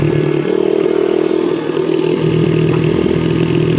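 A dirt bike engine runs steadily while being ridden, a loud, close, continuous motor drone with slight variations in throttle and no talking.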